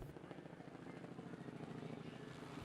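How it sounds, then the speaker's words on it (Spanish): A helicopter gunship's rotor thuds in a steady, continuous throb, loud and close throughout with a dense engine roar underneath. "el aleteo de un helicóptero artillado o el zumbido de un avión fantasma"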